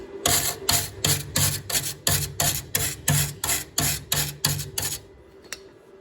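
A wire brush scrubs spot welds on a 1971 Super Beetle body in quick, regular strokes, about a dozen loud rasping passes close by, before it stops and leaves a faint hum.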